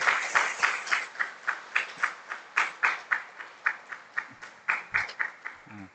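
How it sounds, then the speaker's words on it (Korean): A church congregation applauds to welcome a baby, a quiet, fairly distant patter of scattered claps that swells and fades in regular waves. "우리 박수로 환영하겠습니다."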